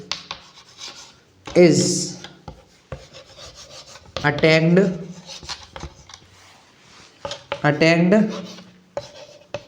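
A hand writes out a definition during a chemistry lesson, with scratchy strokes and light taps, while a teacher talks over them intermittently.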